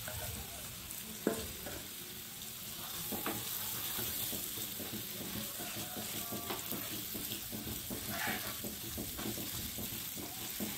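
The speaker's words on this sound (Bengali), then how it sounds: "তো আলুগুলো আমি চটকে নিয়েছি, এরকম মিক্স করে নিয়েছি। তো এটা এখানে আমি দিয়ে এখন ভেজে নেব।" Mashed boiled potatoes fry in a pan in a home village kitchen, with a constant close sizzle, repeated scraping and stirring strokes, and one sharp knock early on.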